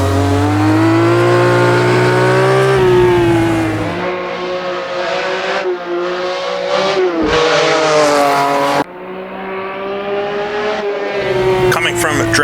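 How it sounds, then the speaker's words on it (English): A Matra race car in Assetto Corsa screams through the gears at high revs, a loud, steady engine wail rising in pitch, then dropping abruptly at each of several upshifts. "Driving the Matra"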